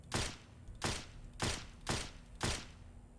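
Suppressed Eden's Revenge energy pistol in Fallout 4 fires five evenly spaced, muffled shots about two-thirds of a second apart, each a soft airy burst with a short tail, heard close and alone.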